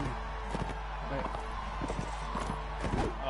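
Horse hooves in Mount & Blade: Warband clip-clopping in a quick, steady gallop rhythm, mixed with background game sounds.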